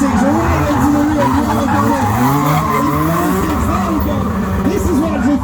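Drift cars including a Toyota 86 skid and squeal their tyres at a Doncaster racecourse motorshow, a loud continuous roar of engines and tyre noise with crowd and commentary-like voices mixed in.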